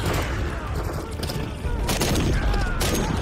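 Dense sustained gunfire from a Call of Duty: Modern Warfare III campaign battle, loud and continuous bursts overlapping with heavy booms.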